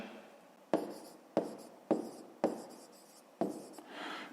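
Pen writing out a math answer on paper, a series of five sharp scratchy strokes with short pauses between them, close and quiet, with no talking.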